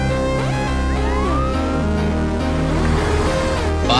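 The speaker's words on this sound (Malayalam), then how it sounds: "ഏത് നിമിഷം അവിടുന്ന് ഫയർ എഞ്ചിൻ വരും." Fire engine siren from a film scene as the truck from Coimbatore heads through a checkpoint toward a large fire, a loud wailing tone rising and falling over layered tonal background sound.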